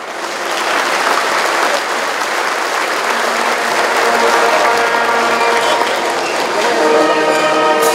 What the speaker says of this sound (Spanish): fuertes aplausos al señor alcalde